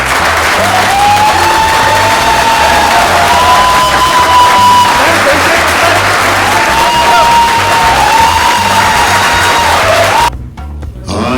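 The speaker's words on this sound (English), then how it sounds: "we're called Mr. Shashi Kapoor, round of applause." Large audience at an Indian film award ceremony bursts into loud, sustained applause with cheering and whoops, a voice heard in the mix, before the crowd noise cuts off abruptly near the end.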